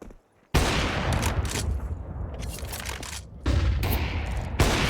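Rifle fire in a CS2 match at a pro tournament, loud bursts of close gunshots starting after a brief quiet, continuing densely with a short lull then another heavy volley.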